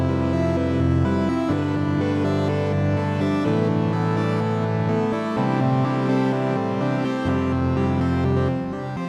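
Granular textures from a Sonicware Texture Lab run through its sequencer at a fast tempo, giving dense, steady layered tones with quick note shifts, loud and unbroken with no talking.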